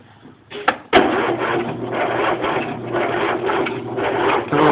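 A John Deere L111 lawn tractor's 20 hp twin-cylinder engine cranks on a cold start at half throttle with full choke. After a couple of sharp clicks, a loud, close, steady rhythmic churning of the starter runs on without pause, with no talking.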